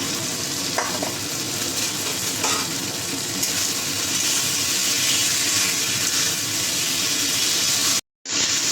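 Tomato, coriander paste, green chillies, and pre-fried pointed gourd with potato sauté in a pan for a catla fish curry, giving a steady close sizzle with spoon scraping and stirring throughout, then a brief cut to silence near the end.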